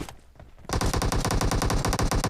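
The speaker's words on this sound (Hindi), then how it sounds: "हमें गोलियों के साउंड सुनाई दे रहे" Automatic gunfire in the mobile battle-royale game BGMI/PUBG: after a quiet moment, a loud, rapid, evenly spaced burst of shots runs continuously for over a second and a half.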